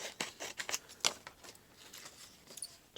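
Scissors snip through paper while making a tuxedo pocket for a junk journal, giving a quiet, close series of short irregular crisp cuts.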